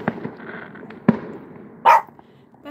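Fireworks exploding outdoors: three separate sharp bangs spread over a few seconds, fairly loud against quiet surroundings, with a dog barking once in between.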